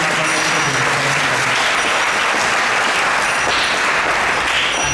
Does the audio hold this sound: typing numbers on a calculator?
no